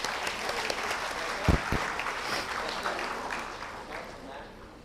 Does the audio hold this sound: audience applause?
yes